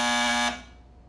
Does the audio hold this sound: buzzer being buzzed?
yes